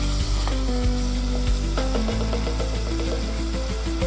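Chicken coated in ginger garlic paste, onion and green chillies sizzling in a clay pot and stirred, a loud close hiss with scraping strokes and low clattering knocks.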